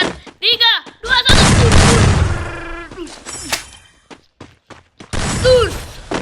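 Sharp gunshot bangs and metallic clangs burst out in a shooting round, several loud cracks clustered with ringing tails, while a commentator talks over and between the shots.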